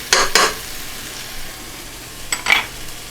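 Pumpkin soup with cinnamon, salt and allspice or nutmeg is stirred in a pot, a few close scraping swishes at the start and again later over a faint steady sizzle.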